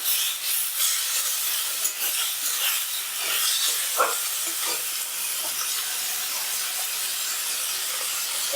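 Spice-bowl rinse water hisses and steams in a hot pan of Bengali eggplant and hilsa curry, with soft scraping and stirring sounds continuing throughout, no talking.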